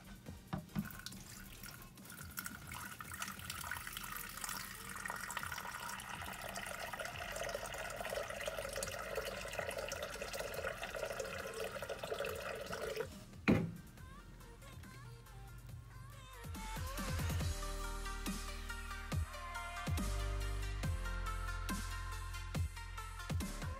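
Fresh water runs from a tap or is poured into a pet reptile's water bowl, a steady splashing stream that stops partway through and gives way to softer drips and clinks of handling, close and alone.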